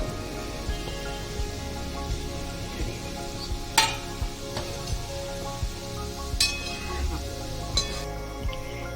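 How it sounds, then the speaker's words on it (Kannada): Homemade jamun dough balls deep-fry in hot oil with a steady soft crackling sizzle and occasional sharper pops and clinks from a stirring utensil, heard close and fairly quiet. "ಒಂದೊಂದೇ ತಗೊಂಡು ಎಣ್ಣೆಗೆ ಹಾಕಿ ಕರಿಬೇಕು ಇವಾಗ ಇದು ಗೋಲ್ಡನ್ ಬ್ರೌನ್ ಬರೋವರೆಗೂ ಕರ್ಕೋಬರಬೇಕು"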